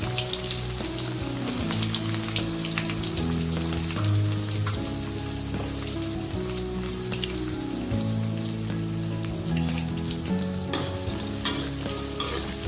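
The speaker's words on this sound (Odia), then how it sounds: "ପିଆଜ ବ୍ରାଉନ୍ ହେବା ପର୍ଯ୍ୟନ୍ତ ଭଲସେ ଭାଜିବା।" Onions fry in oil for a mutton curry, a continuous dense sizzle with stirring scrapes running throughout beneath background music.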